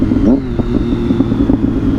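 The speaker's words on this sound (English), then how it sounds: "Oh my god, listen to the pops." Exhaust of a 2010 Triumph Daytona 675 motorcycle crackling with pops and small backfires, close and loud, as a throaty engine drone runs with sharp bursts spaced through the stretch.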